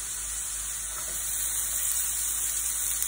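Green chillies hit hot spices and turmeric in a pan while potato sabji for masala dosa is being cooked, giving a steady, bright hiss of frying that stays even and fairly close throughout, with no talking.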